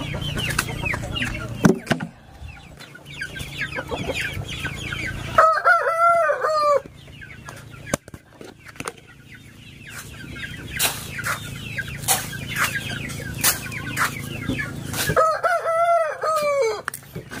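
Colorful chicks purchased for raising, clucking and chirping near a feeder, with repeated bursts of peeping and fowl calls standing out over a low background hum, some rising to louder clusters.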